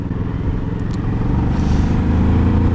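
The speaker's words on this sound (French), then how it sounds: "Il y a une belle accélération, hein, sur cette bécane." A Kawasaki R6-based 700cc motorcycle engine pulls hard under acceleration, a loud, steady close-up roar with dense low rumble that holds throughout with no voices.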